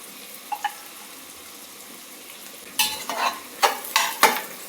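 Freshly pounded ginger-garlic and onions frying in a pan on high flame, quiet sizzle at first, then a run of louder stirring scrapes and splattering bursts toward the end.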